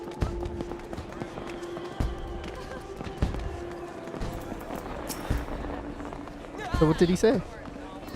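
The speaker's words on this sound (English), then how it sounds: "Oh, the fireworks." Fireworks burst during a Final Fantasy XIV scene, a cluster of crackling pops rising near the end under game music and voiced dialogue.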